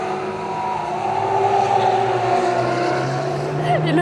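A Nissan 370Z Nismo or another car drifts around the Spa circuit, its engine droning steadily at mid distance with a rising, sliding pitch, while voices talk over it.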